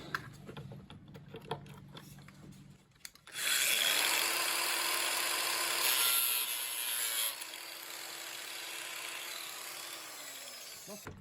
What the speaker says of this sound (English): So I think what I need to do is chop a little bit of plastic off in here.